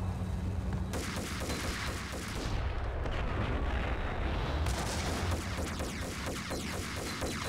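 A grenade launcher fires in the video game Max Payne, with repeated heavy booms and rumbling blasts layered over loud, dense game noise, no talk.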